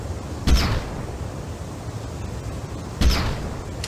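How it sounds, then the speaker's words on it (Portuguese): Two gunshots in a movie-based shooter video game, single sharp cracks spaced about two and a half seconds apart over a steady hissing background. "Você dá um tiro e não alerta ninguém."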